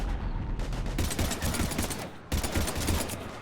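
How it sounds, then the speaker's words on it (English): Heavy, dense gunfire in the sci-fi shooter Mass Effect 3, with continuous rattling volleys and a brief break partway through before the barrage resumes close and loud. "we're taking heavy fire"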